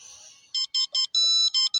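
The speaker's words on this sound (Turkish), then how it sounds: "Ay telefonum kapanmıyor ya. Sabahtan beri çalıyor. Hiç susmuyor." A phone rings in the Toca Boca video game as a bright electronic ringtone, several short pulsed bursts and one longer tone in quick rhythm, loud and clear with no other sound.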